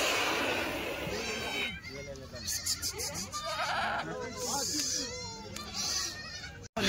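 Kathiawadi goats bleat several times in short, wavering nasal calls, some close and some overlapping, while people talk nearby.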